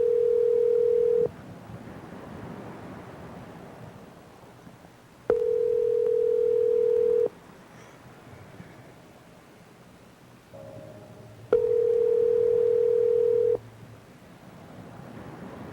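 Telephone ringback tones play before a call goes to voicemail. Three steady, flat tones last about two seconds each and are spaced evenly apart, with quiet hiss between them.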